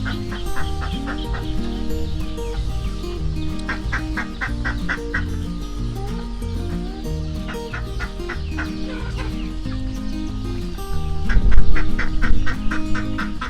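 Domestic ducks and other fowl calling at a flooded pond after a storm, a steady chorus of rhythmic quacks and honks repeating in bursts, fairly close, with no talking.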